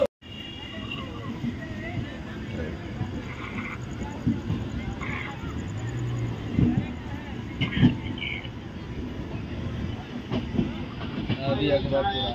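The 13151 Jammu Tawi Express rolling into Akbarpur Junction, a continuous close rumble of rail cars with rhythmic clickety-clack and occasional clanks, with muffled voices in the background.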